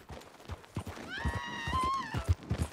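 A horse in Red Dead Redemption 2 lets out a loud, close whinny that rises and wavers for about a second, with game noises and hoof-like thumps around it.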